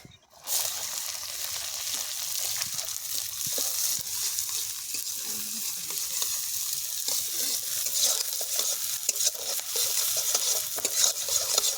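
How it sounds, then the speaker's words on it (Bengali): Chopped onion and green chilli frying in a pan for veg momos while being stirred, giving a steady loud sizzle with scraping stir strokes that continues throughout. "এবারে দিয়ে দেবো কুচনো পেঁয়াজ আর কুচনো কাঁচা লঙ্কা।"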